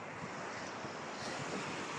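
Sea waves wash onto the shore at Fahaheel, Kuwait, a steady rushing surf mixed with wind buffeting the microphone, even and moderately loud with a brief bump at the end.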